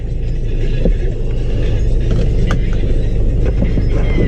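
A 2017 Toyota Camry engine runs close by during a brake job, a loud, steady low rumble with a slight rise in revs and a few light knocks and clicks over it.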